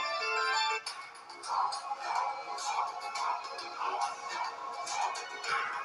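A Redmi 9A phone plays a melodic ringtone, a repeating pattern of bright chiming notes at a steady rhythm, close and clear with no talk over it.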